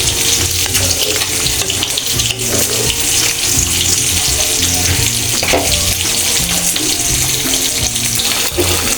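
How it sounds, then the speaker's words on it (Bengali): Loud, steady sizzling and bubbling as broth is poured into a fish curry of rui fish, cauliflower and potato frying in a pan, the splashy hiss continuing unbroken for several seconds without voices. "এখন আমি ঝোল দিয়ে দেবো।"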